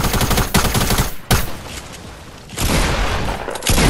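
Loud gunfire in an intense shooter video game, with dense bursts of rapid shots and booming blasts separated by brief lulls, filling the mix without talk.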